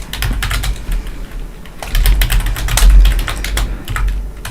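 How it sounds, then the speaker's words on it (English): Rapid computer keyboard typing clicks in a room, a steady run of sharp keystrokes at close range with a few heavier bursts, and no talking. "keyboard clicks"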